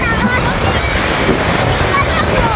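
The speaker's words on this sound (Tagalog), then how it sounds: "Napakalakas po ng alon dito." Loud, continuous roar of strong ocean waves churning during Typhoon Enteng at Rosario, Cavite, mixed with heavy wind buffeting the microphone.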